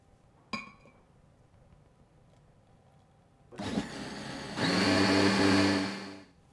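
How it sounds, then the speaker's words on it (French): Electric blender mixing a foie gras flan mixture with cream: a sharp click, a quiet pause, then the motor whirs up and runs loudly for a few seconds before winding down. "Je vais mixer une première fois."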